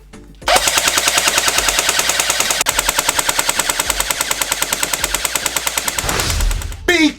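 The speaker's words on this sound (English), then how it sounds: "I'm gonna keep firing until this target is completely destroyed." An A&K PK airsoft machine gun fires BBs in one long, loud, steady automatic burst of rapid mechanical cracks, running close and unbroken for about six seconds with no talk over it.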